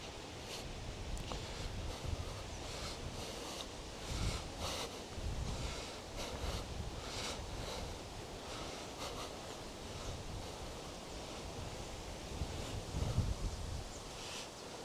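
Gusty wind blowing outdoors in a garden, a faint broadband rush with rustling surges that rise and fall unevenly, and no one talking.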